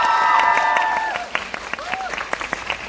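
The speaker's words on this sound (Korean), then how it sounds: "축하의 박수 한번 드릴까요?" Celebratory applause from an audience at a Korean film talk event in a cinema hall, starting as a dense wash of clapping that thins into scattered claps, while a sustained musical tone sounds over the first half.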